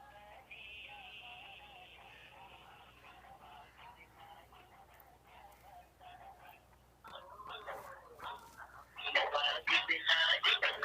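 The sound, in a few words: outgoing phone call ringing unanswered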